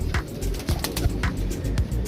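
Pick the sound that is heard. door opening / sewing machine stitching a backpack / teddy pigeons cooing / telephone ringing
teddy pigeons cooing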